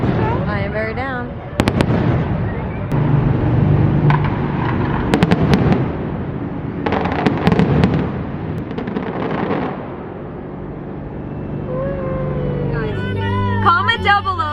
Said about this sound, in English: Should we just watch the fireworks show?